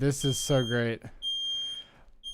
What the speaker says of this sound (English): And that's my fire alarm.